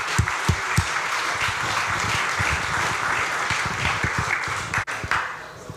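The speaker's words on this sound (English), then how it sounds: "Let's give them a round of applause, guys." Crowd applause at the PG Connects Helsinki 2016 indie game pitch awards, a dense steady roar of many hands clapping with a few sharper close claps, sustained throughout before a brief dip near the end.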